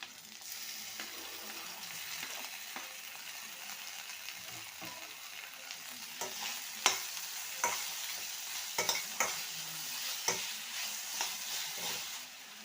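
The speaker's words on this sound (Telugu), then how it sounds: "ఇప్పుడు టమాటా కూడా వేస్తానండి" Tomatoes go into a pan of frying brinjal and mango curry and are stirred through, giving a steady close sizzle broken by scraping spoon clicks and knocks that cluster toward the end, with no talking.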